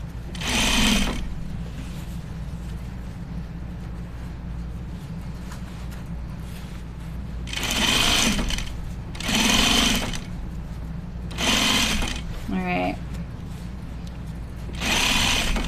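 A home sewing machine stitches the side and back seams of a pair of jeans in several separate bursts of a few seconds each, with quiet pauses between runs and a brief rattle near the end.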